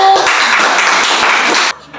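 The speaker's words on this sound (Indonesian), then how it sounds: "Iya, tepuk tangan dulu." Students in a classroom burst into applause, a dense, loud clapping close by that lasts under two seconds and cuts off abruptly.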